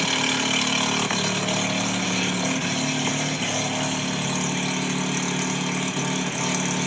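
A Fox body car with a 12A rotary engine idling close by, a dense steady rumble that holds even without revving, with no talk over it.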